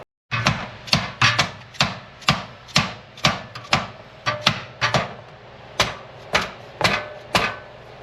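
Sharp metallic hammer strikes on the brake drum of a Suzuki Eiger 400 4x4 ATV being repaired, about sixteen close, loud blows at an uneven, roughly steady pace, each ringing briefly before the next.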